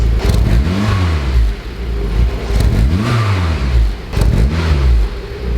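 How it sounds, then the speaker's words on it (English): Untuned Honda car engine being revved in short blips, three distinct rises and falls in pitch, close and loud, settling back to idle between each rev. "I'll give it little revvies."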